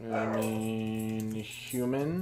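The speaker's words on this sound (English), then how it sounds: "That's just my dog." A pet dog at home gives a drawn-out whining howl, a long tonal cry with a brief break then rising again, while a person speaks briefly over it.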